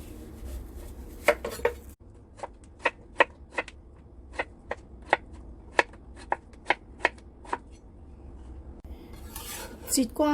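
Hairy gourd being sliced on a chopping board, a run of about fifteen sharp, evenly spaced knife taps close by, followed by a brief clatter at the end.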